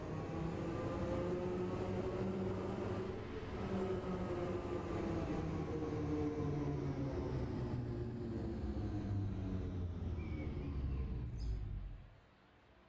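A London Underground Bakerloo line train pulls into the platform, a loud sustained rumble and rising whine of wheels and motors filling the station for about twelve seconds before cutting off abruptly.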